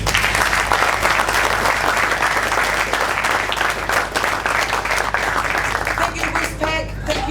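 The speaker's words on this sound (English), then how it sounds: "So massive round of applause." Loud, sustained applause from a crowd at the Fieldays agricultural event session, dense clapping filling the whole stretch and easing slightly near the end.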